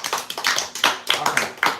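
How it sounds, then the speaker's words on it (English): A class at an improv jam session claps, giving a burst of several distinct, close handclaps in a loose, uneven rhythm that lasts under two seconds, with no talking. "Let's clap more time"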